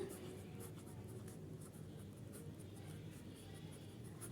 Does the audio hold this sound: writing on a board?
yes